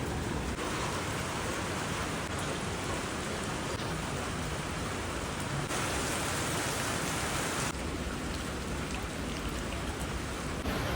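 Heavy rain in Manali falls steadily and densely, a continuous broadband hiss of drops on surfaces that stays loud and unbroken throughout, with no talking.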